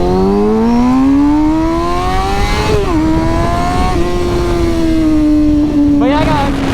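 A motorcycle fitted with a new aftermarket exhaust is ridden, its engine note rising steadily then dipping and holding with a loud, close drone, before a sharp rev near the end; wind rush and a voice sit underneath.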